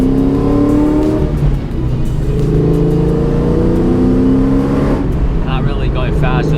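A Cobra car accelerates hard on a test hit, its engine note climbing loud and close through the gears, with a shift near the end and a brief tire squeal.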